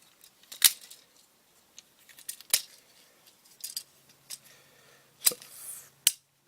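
Plastic parts of a Transformers Generations Voyager Triple Changer Blitzwing toy are folded and moved up close, giving scattered sharp clicks, snaps and light rattles separated by brief quiet gaps.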